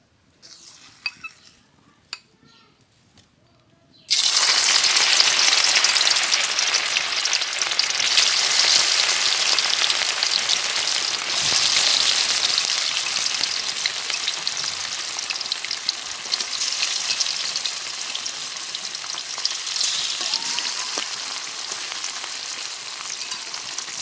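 Rui fish hits hot oil in a pan after a few quiet handling clicks, then a loud, steady sizzle of frying carries on with occasional clinks of utensils against the pan.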